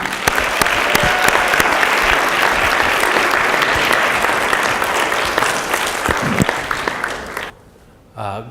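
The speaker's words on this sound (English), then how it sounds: "let's hear it, a big round of applause for Dr. WayneAu" Audience applauding a speaker at a diversity forum, sustained loud crowd clapping for about seven seconds, then stopping abruptly into near quiet before a voice begins.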